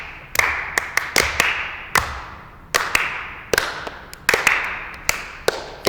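Hands clapping as body percussion in a children's music class, about a dozen sharp, close claps in irregular bursts and pairs with short gaps, loud and clear with no talking over them.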